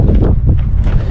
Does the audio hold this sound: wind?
yes